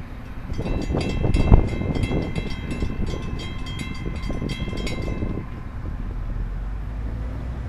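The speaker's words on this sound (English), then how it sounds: "there you have it, FEC train number 101" Florida East Coast train 101 rumbles past a road crossing at County Road 512, a loud, steady roll of wheels and cars with a sharp clank near the start, continuous and close with no talk.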